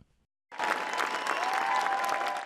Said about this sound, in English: Bush's father, George H.W. Bush, stood in this heartfelt moment for the cheering crowd.